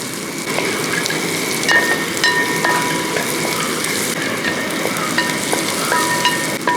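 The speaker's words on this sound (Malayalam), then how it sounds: "ആ ഉള്ളിയും കൂടെ അങ്ങോട്ട് ഇട്ട് കൊടുക്കാം ഇതെല്ലാം കൂടെ നന്നായിട്ടൊന്ന് മിക്സ് ചെയ്ത് ഇളക്കി കൊടുക്കുക" Onions fry for a Kerala beef peralan, giving a loud, steady sizzle and crackle with scraping stirs of a spoon in the pan throughout, and no voices.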